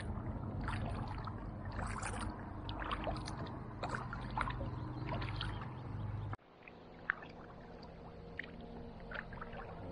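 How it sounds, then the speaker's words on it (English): A kayak paddled around a beach area on Loch Ard, with soft water swishes and drips from the paddle under steady outdoor ambience; the sound thins and quiets partway through, leaving fainter lapping. "I'm just going to paddle around this beach area."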